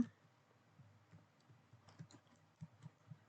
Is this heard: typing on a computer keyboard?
yes